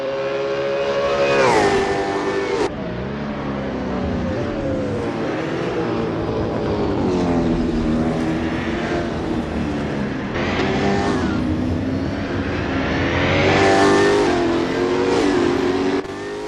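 V8 Supercar engines racing at Pukekohe Park in Assetto Corsa: loud, continuous engine roar with rising and falling revs, gear-change drops and a close pass, heard alone without talk.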